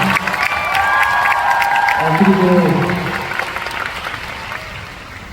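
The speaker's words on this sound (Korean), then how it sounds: "박수 부탁드리겠습" Concert audience clapping and cheering for a band at a live show, a dense loud crowd roar with scattered whoops, while a voice speaks briefly over it.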